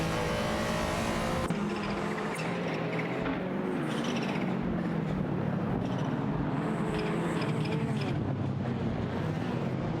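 Porsche race cars roar in a racing video game, a steady loud engine drone shifting pitch as they accelerate and pass, with rushing wind noise and no pauses.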